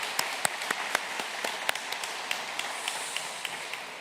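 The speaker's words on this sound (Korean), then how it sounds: "우리 한번 다시 한번 박수 한번 하시면 어떨까 싶습니다" A church congregation at a Korean Liberation Day joint worship service breaks into light applause, a steady patter of many hands with sharper individual claps standing out, sustained and fairly close, with no one talking.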